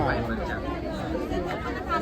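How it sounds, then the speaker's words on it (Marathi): Dense crowd chatter fills the grounds of Mahalaxmi temple, a steady babble of many overlapping voices at close range throughout. "आता काय घेऊन फायदा नाही, केवढी गर्दी आहे"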